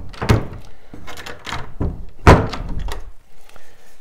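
The wooden door of an old pine larder cupboard with French-style external hinges is worked, giving several close, hollow knocks and thuds in quick succession.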